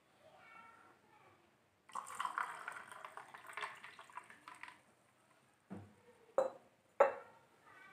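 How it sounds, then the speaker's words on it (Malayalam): Water is poured into a glass of coconut lime drink. A soft, steady splashing stream runs for a few seconds, followed by a few louder knocks of glass and ice, close up with no one speaking. "കുറച്ച് വെള്ളം കൂടി ഒഴിച്ചു കൊടുക്കാം"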